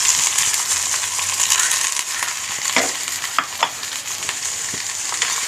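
Chopped onions drop into hot oil in a pan for a Kerala jackfruit erissery curry, giving a steady, close sizzle and frying hiss with occasional soft stirring scrapes and small crackles, no voices.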